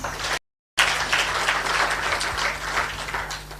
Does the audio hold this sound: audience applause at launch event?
yes